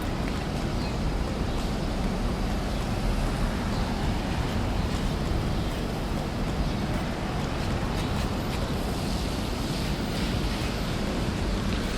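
Torrential rain pours down during an evening electric motorcycle ride on a Harley-Davidson LiveWire, a dense, steady broadband roar of water with wind buffeting the microphone, continuous and loud throughout with no talking.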